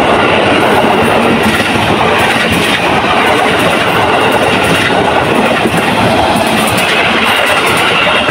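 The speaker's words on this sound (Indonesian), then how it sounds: "Ada KRL nih kawan-kawan." A KRL commuter train rolls past the Depok rail switch very close and loud, its steady roar and clattering wheels on the points filling the whole stretch.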